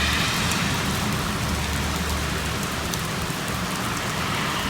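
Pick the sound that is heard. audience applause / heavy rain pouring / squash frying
heavy rain pouring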